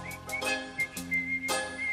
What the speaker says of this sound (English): each time something scares me, I just look it in the eye and whistle.